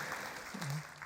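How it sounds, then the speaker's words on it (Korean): A church congregation applauds during a Sunday worship service, a faint, brief patter of clapping with a voice briefly audible underneath. "참 이분들 박수 치기 좋아해."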